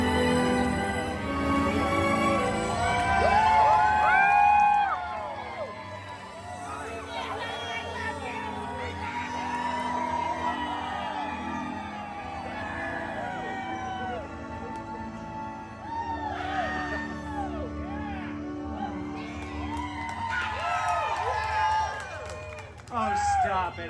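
Lively crowd at a Disney Deadpool show cheering, whooping and clapping, with children shouting over a dense bed of voices; the noise swells loud near the start, dips in the middle and rises again toward the end.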